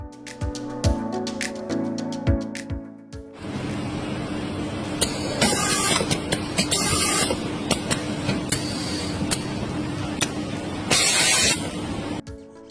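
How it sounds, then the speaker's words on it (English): A computer-controlled machine cuts threads into tungsten and steel, a steady mechanical whir with bursts of harsh high-pitched grinding and hiss, preceded by a few sharp clicks and knocks. "Controlled by a computer, this machine can make perfect tread on tungsten,"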